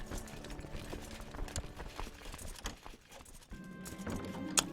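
Horse hooves clip-clop in the medieval strategy video game Crusader Kings 2, a quiet, steady stream of clopping steps under faint background music.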